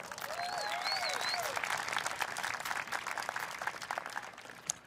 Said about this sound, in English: Please join me in applauding Mr. Jason Sweet and Mrs.